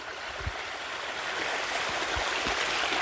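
Small unnamed waterfall in the Thai countryside flowing down toward a river, a steady soft rush of water with a few low knocks, heard fairly quietly and without talk.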